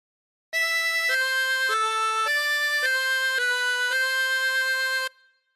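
A chromatic harmonica plays a phrase of God Defend New Zealand: about seven connected notes of steady, bright reedy tone rising and falling in pitch, close and alone for around four and a half seconds.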